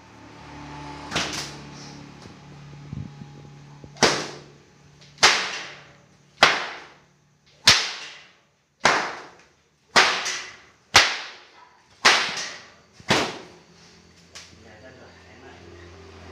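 A pecut sodo lanang whip cracks about ten times in a steady rhythm in Jember, Indonesia, each snap sharp, loud and close like a firecracker, with a brief ringing decay and quiet pauses between.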